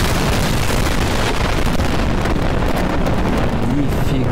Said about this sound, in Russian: Ну, хоть посмотрим вблизи взрыв.